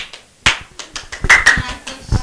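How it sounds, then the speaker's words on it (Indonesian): A classroom of students claps for a presenting group during a microteaching practice session, a short burst of distinct, uneven hand claps close by, with voices chattering between them. "Ya, berikan tepuk tangan."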